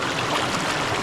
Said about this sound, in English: Washing my hands is nice and easy.